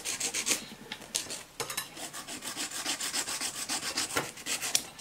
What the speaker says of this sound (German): Weil Steinchen dann auch mit der Feile, das hört sich auch nicht so besonders prickelnd an.